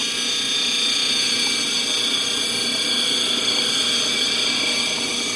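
Grinding wheels working an epidote mineral specimen give a steady, loud, unbroken mechanical whir and grind with a bright, rough edge that holds constant throughout.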